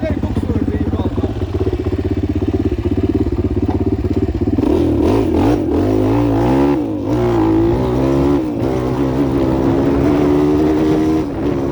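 An enduro motorcycle labours in a swampy forest, its engine droning loudly then revving and wavering as the rear wheel spins and slips in mud, with clattering and someone talking over it.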